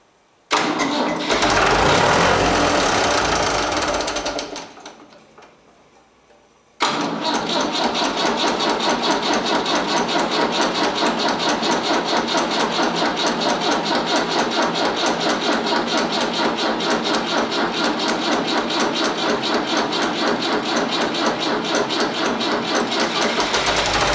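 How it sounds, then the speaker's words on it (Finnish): An old engine cranks over and fires up, loud and near, then after a brief pause settles into a steady, rapidly pulsing idle that runs on evenly to the end. "mutta hyvin se käynnistyy"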